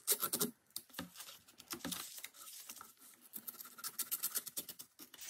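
Scissors snip and crinkle through a paper envelope, cutting along its top and bottom edges in short, irregular bursts of close, quiet paper rustling, with no voices.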